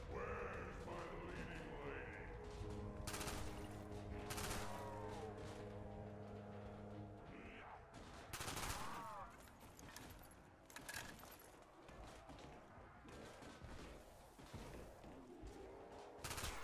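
A self-defense gun firing in a game: sharp shots and rapid bursts up front over a steady engine-like rumble, with tonal effects and a voice speaking through the middle.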